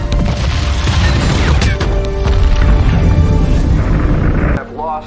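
A dense, roaring explosion in space from a 2017 film rumbles loud and sustained for several seconds, then cuts off abruptly into quieter tones.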